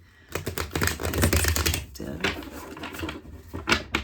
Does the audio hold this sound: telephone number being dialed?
no